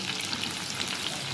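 Pakoras frying in hot oil in a home kitchen, a dense continuous sizzle with crackling bubbles, close and steady throughout.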